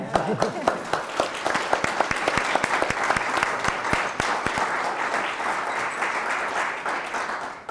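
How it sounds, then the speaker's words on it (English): A panel audience on housing and poverty gives a sustained round of applause, many distinct hand claps ringing out over a dense clapping bed that gradually thins slightly toward the close. "Just applaud these 3 residents."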